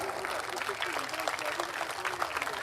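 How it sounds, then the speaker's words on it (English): A crowd in an audience claps steadily at a school's annual prize day, the applause dense and continuous throughout. "A loud round of applause."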